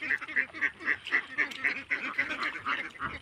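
Farm ducks quack in a quick steady series of nasal calls, about a dozen in a row, fairly close and moderately loud with no voices over them.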